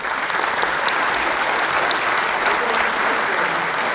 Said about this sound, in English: I'd like another round of applause for our candidates.